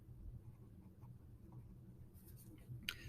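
A pen or marker writing on a board during a geometry lesson: faint, soft scratchy strokes at close range over a quiet room hum, ending with a brief sharper tap.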